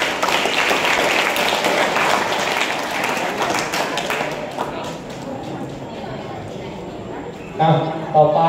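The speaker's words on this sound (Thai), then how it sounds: "ปรบมือให้เพื่อนหน่อย" A room full of people claps steadily for several seconds in a lecture setting, the applause thinning out toward the end before a short burst of louder noise.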